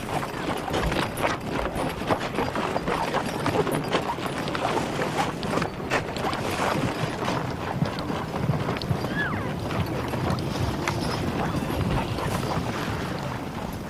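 Horse-drawn sleighs hauling hay across winter elk feeding grounds near the Teton Range, hooves clip-clopping steadily over a continuous bed of wind and creaking, with no talk.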